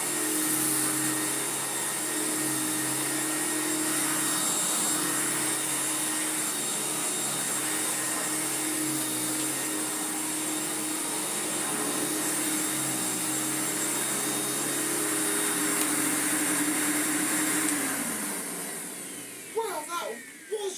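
An Electrolux Glider vacuum cleaner runs with strong suction, a loud steady motor whine held near for most of the stretch before it winds down and stops near the end, followed by brief handling noise.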